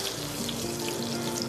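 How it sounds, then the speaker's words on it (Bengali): Peanuts and cumin fry in a pan, giving a steady, dense sizzle with fine crackling throughout and a faint hum underneath. Nobody speaks. "বাদামটা 2 থেকে 3 মিনিট একটুখানি ভাজা ভাজা হয়ে গেলে"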